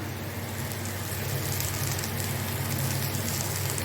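Onions sauté in a hot pan for egg masala, giving a steady, even sizzle and crackle up close that continues unbroken without talk.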